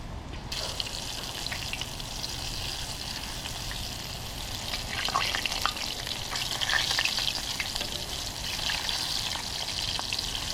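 Seasoned flounder fillets fry in a pan with a continuous loud hiss and crackle, with no voices.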